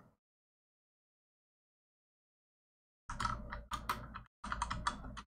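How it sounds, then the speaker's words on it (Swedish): Keys clatter on a computer keyboard in three quick bursts of fast typing after about three seconds of near silence, close and fairly loud with short pauses between runs. "Jag kan knappt skriva idag."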